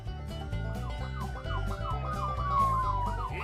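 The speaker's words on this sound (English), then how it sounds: "this is not a real police car behind you" Wailing police car siren sound effect, loud and continuous, its tone sweeping up and down in a steady cycle with a layered electronic, musical quality.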